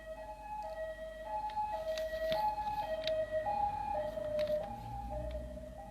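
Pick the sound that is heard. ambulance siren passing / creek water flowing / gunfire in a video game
ambulance siren passing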